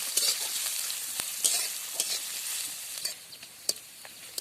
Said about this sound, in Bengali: এবারে দিয়ে দিচ্ছি কুচিয়ে রাখা পেঁয়াজ পেঁয়াজটাকেও লাল লাল করে ভেজে নেব